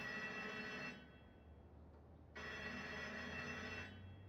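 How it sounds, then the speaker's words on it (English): A phone-like electronic ringing or alarm inside the Indiana Jones video game, two sustained bursts of bright trilling with a short gap between, fairly faint, with no talking. "Sounds like a phone, but it could be an alarm."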